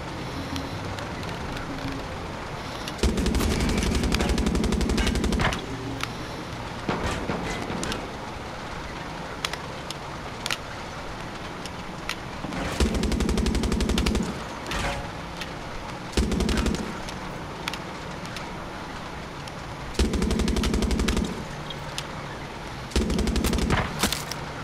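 Automatic gunfire from the video game Far Cry 6, fired during a tank heist: loud, sustained machine-gun bursts lasting a few seconds each, repeating at intervals with scattered single shots and rattle between them.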